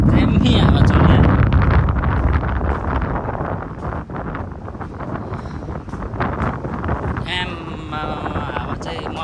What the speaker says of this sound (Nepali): सिकेको छु हल्का दामी हावा चलिहाल्यो।